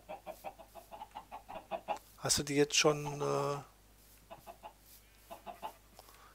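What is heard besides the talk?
chickens clucking in Minecraft video game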